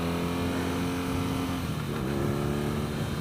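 A 2016 BMW R NineT motorcycle with an Akrapovic exhaust revs under light throttle, giving a loud, close, steady boxer-engine drone that dips and rises briefly, with no talking.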